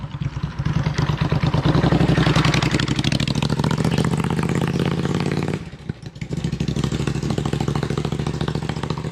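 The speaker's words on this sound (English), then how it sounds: "another very loud vehicle" A very loud motorbike-like vehicle roars close by on a street in Dubai, its engine throbbing in a dense rapid clatter that fades slightly, dips briefly, then surges again without speech.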